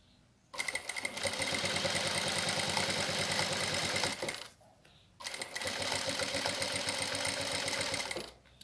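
Sewing machine stitching a plastic-lined cosmetic pouch, running steadily in two long bursts of rapid, even stitching separated by a brief pause, close and fairly loud with no talk.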